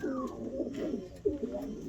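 Racing pigeons cooing close by, soft throaty warbling coos repeating in a low rolling rhythm, with faint flutters and shuffling in the loft and no talk.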